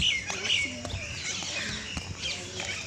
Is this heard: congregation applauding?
no